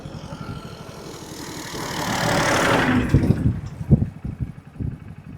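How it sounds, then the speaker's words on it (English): A tractor engine rumbles nearby, swelling steadily louder as it approaches and then chugging with uneven low knocks as it passes close by. "yeah, that was a tractor"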